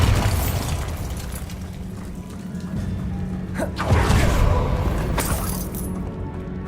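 The Bombarda explosion spell in Hogwarts Legacy: a deep boom with crackling, shattering debris rolls over a low ambient game soundscape, followed by a couple of further sharp bursts and rumbling impacts before fading.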